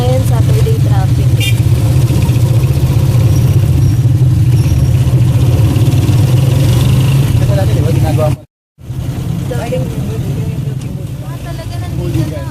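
A motorized tricycle's engine drones steadily through a Saturday ride in traffic, a loud low rumble that cuts out briefly for a moment before resuming under ongoing conversation.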